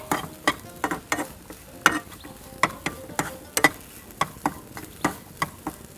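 Banana filling with sugar, cumin and ghee being mixed and roasted in a pan, heard as regular sharp taps and scrapes of a spoon against the pan over a faint sizzle, close and rhythmic.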